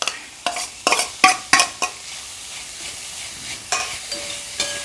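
A spoon stirs crushed coconut into pumpkin leaves frying for a Kerala thoran, making a run of loud, close scraping strokes against the pan, then a pause before a few more scrapes over a light sizzle.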